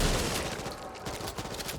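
Dense gunfire crackles in the co-op zombie shooter Back 4 Blood, a steady rattle of rapid shots filling the short stretch without any voices.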